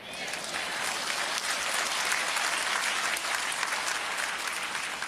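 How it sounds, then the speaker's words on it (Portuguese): An audience at a Myles Munroe talk on missionaries and legacy claps in a loud, dense, unbroken burst of applause from many hands, steady throughout. "E ele merece um aplauso por isso."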